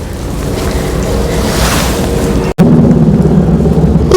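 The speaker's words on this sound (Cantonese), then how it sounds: "寧靜嘅風聲啊，真係好舒服" Wind moves through a moss garden at the old Hoshi ryokan hot spring inn in Awazu Onsen, a steady close rushing whoosh that buffets the microphone and briefly cuts out before resuming.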